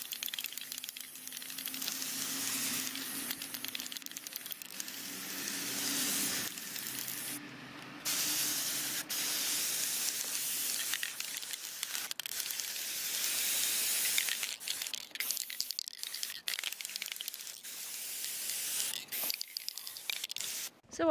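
A spray paint can hisses in long continuous bursts, close by, with brief pauses and a few rattling clicks between passes, painting a board.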